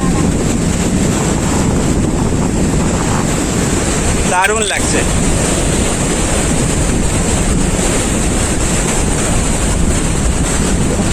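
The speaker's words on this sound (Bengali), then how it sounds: "কিছু কিছু বড় বড় ঢেউ আসছে" Sea waves surging on Mandarmani beach, a steady broadband roar with heavy wind buffeting the microphone throughout; a person speaks briefly near the middle.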